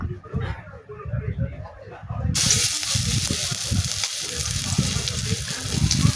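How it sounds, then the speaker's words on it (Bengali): Bottle gourd pakoras sizzle steadily in hot oil, with a soft frying hiss that swells louder and stays continuous after they are turned over, under light background talk. "আমার একদিক ভাজা হয়ে গিয়েছে, আমি উল্টিয়ে দিচ্ছি"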